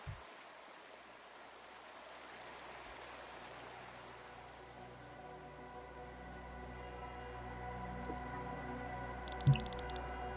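Rain falls steadily in the rain-soaked capital city of a fantasy role-playing game, a soft, continuous patter that slowly grows louder, with a low droning tone underneath and a brief dull thump near the end.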